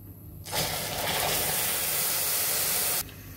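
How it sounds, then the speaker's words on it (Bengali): Milk is poured into a hot pan of browned semolina for sandesh and erupts in a loud, broad hiss and sizzle that holds for about two and a half seconds, then cuts off. "এখন আমরা দুধটা ঢেলে দিব।"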